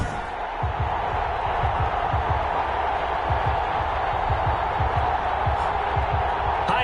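A stadium crowd roars steadily in an NFL football video game before a Kansas City Chiefs versus Las Vegas Raiders matchup, a broad continuous wash of cheering with rhythmic thumping beneath it and a voice talking over it.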